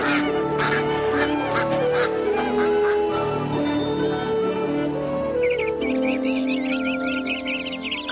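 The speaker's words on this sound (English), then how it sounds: "God created every kind of bird." Geese honk and other birds call in a dense, continuous flock chorus, loud and close throughout, with a brief burst of higher chirping near the end.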